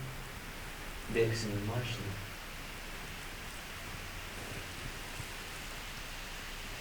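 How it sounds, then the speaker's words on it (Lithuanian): Steady rain falling outdoors at night by an old prison, a soft even hiss throughout, while a voice speaks briefly near the start. "Lietus pareina."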